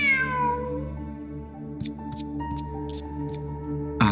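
A cat meows in the video game Genshin Impact, one clear drawn-out call at the start over steady tonal background music, followed by a few faint soft sounds.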